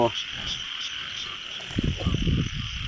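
Frogs croak in a dense chorus close by at a pond after rain, steady and persistent, with a higher insect-like trill layered over the top.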